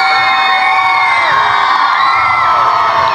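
Thousands of fans at an outdoor concert in Armavir cheer, shout and whoop loudly as a pop singer takes the stage, a continuous roaring crowd with high excited yells.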